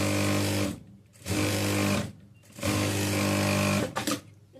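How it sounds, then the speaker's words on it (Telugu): A sewing machine runs in three bursts of rapid, close, buzzing stitches, double-stitching a frock nighty, with brief pauses between runs and a short clatter near the end. "ఇలా మొత్తం కుట్టు వేసేసాక డబల్ కుట్టు వేసుకోవాలి."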